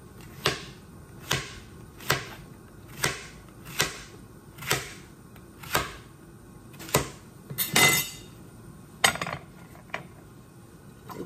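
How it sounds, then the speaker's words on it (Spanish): A knife cuts zucchini (calabacita) on a board while chicken broth is being prepared, making about a dozen crisp, evenly spaced chops close by with a brief scraping burst partway through. "Aquí voy a cortar la calabacita."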